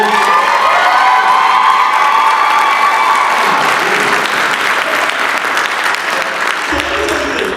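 A large crowd at a Job Corps graduation ceremony applauding and cheering for graduates, loud continuous clapping with whoops and shouting voices layered on top, sustained throughout.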